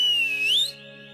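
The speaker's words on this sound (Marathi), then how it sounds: "मेल्या ती शिट्टी नाही बशीची शिट्टी" A bus conductor's whistle gives one short gliding shrill blast over sustained musical tones, then fades out.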